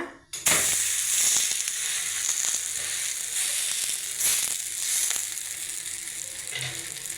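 Pearl millet adai batter frying on a hot pan, a steady hiss of sizzling after a soft clatter at the start, with faint scraping and stirring sounds, no voices.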